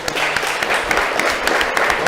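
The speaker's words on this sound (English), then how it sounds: "let's give our guests a round of applause." An audience at an in-person debate claps for the guests, loud and close, with dense applause and distinct individual hand claps punctuating it, and voices audible beneath.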